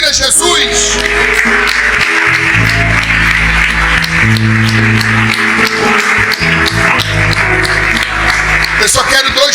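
A church congregation applauds for Jesus during a sermon, broadband clapping running throughout beneath loud sustained music and voices that dominate the mix.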